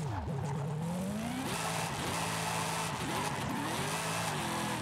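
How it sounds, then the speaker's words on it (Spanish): Dodge Charger SRT Hellcat Redeye in Forza Horizon 5 spinning its wheels, a loud engine revving through rising gear pulls with continuous tire squeal and skidding, steady and close throughout. "Patina en todas las marchas, ¿eh?"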